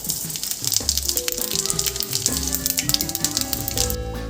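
Whole cardamom, cloves and cumin crackling in hot oil for a papaya and potato dish, a continuous bright sizzle with scattered pops, alongside faint tonal music in the background.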